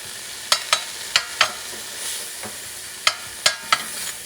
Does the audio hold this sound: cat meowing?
no